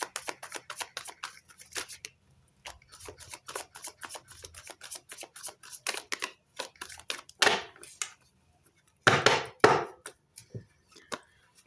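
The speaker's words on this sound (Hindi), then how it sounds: "Last shuffle for Capricorn, please." Tarot cards being shuffled by hand, with a crisp flurry of riffles and taps that comes in uneven bursts, close and fairly quiet, with a couple of louder shuffles near the end.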